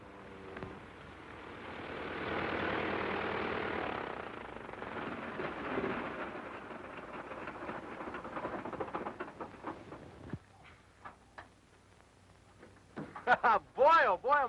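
A distant droning aircraft engine with engine trouble rises and fades unevenly, followed by sputtering bursts and brief loud noises near the end.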